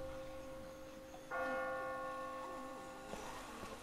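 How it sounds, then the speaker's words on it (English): A church bell rings in The Walking Dead video game, with sustained metallic tolling tones that swell midway and ring on steadily against a quiet background. "Who's ringing that goddamn bell?"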